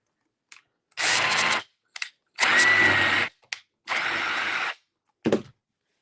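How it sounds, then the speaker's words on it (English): A power drill runs in three sustained bursts of about a second each, separated by short pauses and a few brief clicks, loud and close with no talking. "This is not my first rodeo with the drill."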